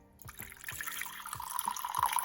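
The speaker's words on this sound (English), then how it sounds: "And a little bit of water, not too much." A little water is poured into a slow cooker holding herb-crusted bacon, a soft trickle with several plopping drips that builds into a gentle fill and stays quiet, without speech.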